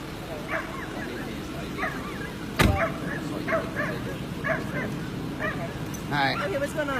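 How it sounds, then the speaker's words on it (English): Dogs barking in a recording played back, repeated yips and barks at irregular intervals over a busy background with a loud thump partway through, with people talking. "Well, I recorded these dogs yesterday."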